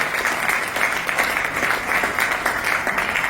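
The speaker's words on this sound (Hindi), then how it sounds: "एक जोरदार ताली होना चाहिए डीएक्सएल के लिए" Applause from an audience at a business talk in a Delhi hotel rises into one continuous, full burst of clapping that fills the room for a few seconds, with no voices over it.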